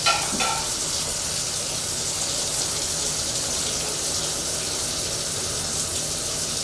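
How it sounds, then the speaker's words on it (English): Excess oil pours steadily from a pan of cooked potatoes and onions for a Spanish tortilla. A loud, continuous hissing gush follows a brief clatter at the start. "We're going to drain the excess oil off here."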